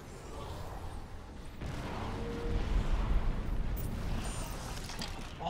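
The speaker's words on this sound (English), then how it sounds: "All of these explosions!" Rumbling explosions in Crysis 3 at max settings roll on as a continuous low, heavy boom that swells in the middle and lingers, with no clear separate blasts.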